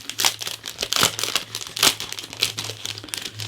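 A small resealable plastic bag is handled up close, giving loud bursts of crinkling and rustling in irregular clusters, with a faint low hum underneath.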